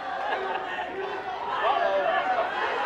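Crowd cheering at a high school wrestling match between Crestwood and Ravenna, a loud sustained roar of voices that swells toward the end, with a commentator talking over it.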